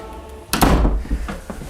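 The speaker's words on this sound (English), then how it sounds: "let me shut the door" A door is pushed shut with a solid thunk and a brief rattle, close by, followed by a few faint knocks as it settles.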